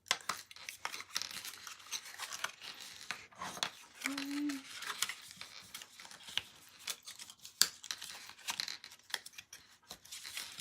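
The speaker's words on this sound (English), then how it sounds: "We're going to burnish and fold. Fold and burnish." Paper being burnished and folded by hand for a Valentine treat box, with soft rubbing, crinkling and tapping sounds in quiet close bursts.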